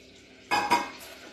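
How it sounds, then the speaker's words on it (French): Powdered sugar, flour and baking powder mixed in a bowl, heard as two quick clinking scrapes of a utensil against the bowl, close and fairly brief, following near silence. "on va mélanger tout ce qui est poudre, donc sucre glace,"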